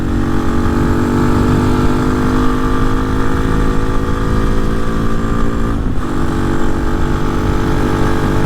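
A Honda Hawk 250 motorcycle fitted with a Loncin RE250 engine drones along steadily in sixth gear, a loud, close, continuous engine hum with wind buffeting and a slight pitch dip near the end.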